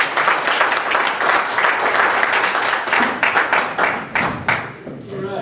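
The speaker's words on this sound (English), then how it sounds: "So I want you to give a big round of applause." A comedy variety show audience breaks into sustained, dense applause for a ventriloquist, loud and close, with scattered cheering, thinning into individual claps near the end.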